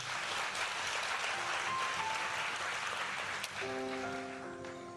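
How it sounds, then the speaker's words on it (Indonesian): Faint applause from a church congregation gives a steady, distant patter of clapping that thins out toward the end while a soft organ-like tone enters. "Kita berikan tepuk tangan dulu buat Tuhan"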